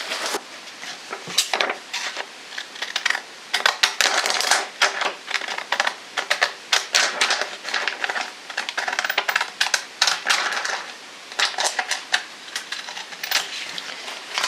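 Scissors or a blade cut through a dictionary page, giving a long run of close, crisp snipping and crackling paper sounds with brief pauses, fairly loud and with no voices.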